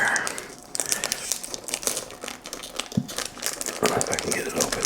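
Crinkling and rustling of a perfume's cardboard box and plastic packaging being handled and pulled open, close by, with a voice talking over it.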